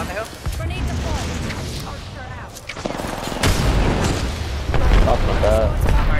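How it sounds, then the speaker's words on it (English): In the battle royale shooter Apex Legends, a grenade blast booms amid scattered gunfire, deep rumbling impacts swelling through the second half while voices talk over the action. "Grenade deployed."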